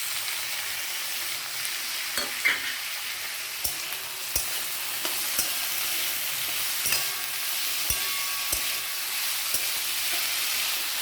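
Potatoes tossed into a frying pan for a beetroot curry hiss in a continuous sizzle, with scattered sharp clanks and taps of a utensil against the pan, and no voices.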